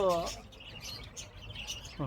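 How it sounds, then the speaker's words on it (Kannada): A budgerigar, an Australian bird species, gives short, bright chirps at the start and end. A quiet, murmuring background fills the gap between them. "Australian species bird sir"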